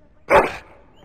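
One short, sharp dog bark from the Dragon Age video game, loud and close, fading quickly into a faint tail.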